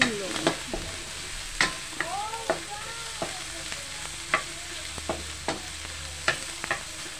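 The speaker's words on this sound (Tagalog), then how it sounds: "Ilagay natin yung hipon. Tinanggalan ko na ng ulo." Headless shrimp go into a hot pan and are stir-fried for pancit, with a continuous sizzle broken by sharp, regular clacks of a utensil against the pan, close and with no voices.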